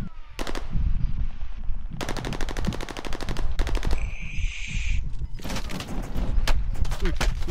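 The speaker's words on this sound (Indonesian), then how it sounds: "Ada orang tembak." Rapid machine-gun bursts in Call of Duty: Modern Warfare, several loud close volleys separated by short pauses, with players talking over the fire.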